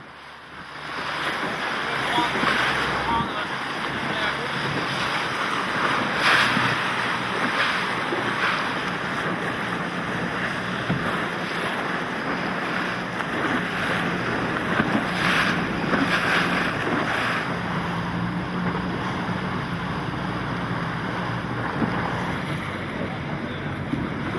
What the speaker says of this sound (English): carries the boat through the water with elegance and lightness, breaking through the waves